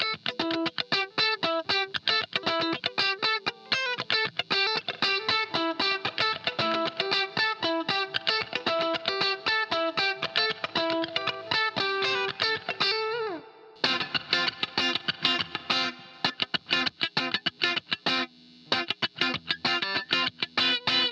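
Electric guitar played through spring reverb and coarse vibrato, split in stereo with one side dry and the other wet, chiming chords and single notes in a steady strummed rhythm, loud and continuous with a brief pause midway.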